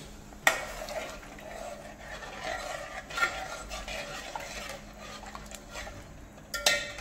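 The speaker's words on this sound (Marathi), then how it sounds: "आता हे व्यवस्थित असं मिक्स करून घ्यायचं आहे आपल्याला" Cooked mutton being stirred into a Kolhapuri tambda rassa curry in a pot, with soft scraping and sloshing from a spoon, a couple of sharper clinks against the metal near the start and end, no talking.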